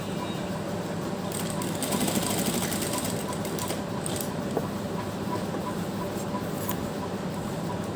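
A sewing machine stitches a strip of fabric while turning a corner, running in a fast, continuous rattling whir at close range with a steady, even pace.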